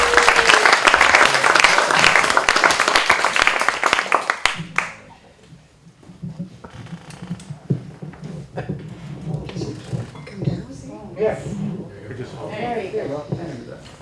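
Dense, loud applause from an audience for a reader at a storytelling event, steady clapping that fades out after about four seconds, followed by quieter room noise and a person beginning to talk.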